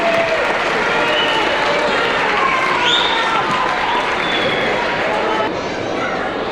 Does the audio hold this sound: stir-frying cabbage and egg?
no